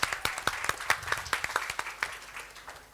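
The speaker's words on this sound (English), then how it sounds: "Does it warrant a round of applause? Yes, definitely." A round of audience applause at a live 2023-24 budget analysis event, dense clapping from many hands at steady volume, fading slightly toward the end.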